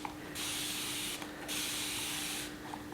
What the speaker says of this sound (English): We're going to spray our surface.